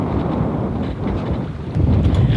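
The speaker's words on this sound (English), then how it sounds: "We just got a few more gusts" Gusty wind buffets the microphone aboard a sailboat, a loud low rumble that swells and surges as the boat comes in to anchor under sail.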